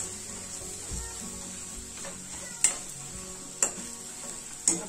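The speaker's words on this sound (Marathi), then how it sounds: "आपण फ्राय केलेले कडतुले याच्यात घालून मिक्स करून घेणार आहोत" Fried kartule (spiny gourd) stirred into cooked masala in a pan, a soft sizzle under gentle stirring with three sharp metallic clinks of a spoon against the pan.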